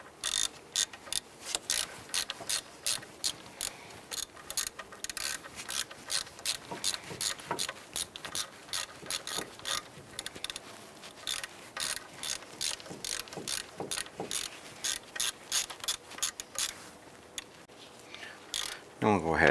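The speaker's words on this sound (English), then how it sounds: "And we'll go ahead and snug this bolt down." A hand ratchet tightening a bolt on a 2005-2007 Jeep Liberty during alternator replacement: quick, crisp clicking strokes in steady bursts, close and fairly quiet, running almost without pause.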